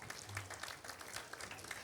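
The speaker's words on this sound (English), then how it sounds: "So let's give a round of applause for 75-year anniversary." Festival crowd at a cultural arts event clapping for a 75th anniversary, a faint, steady patter of many hands heard from a distance with no voices on top.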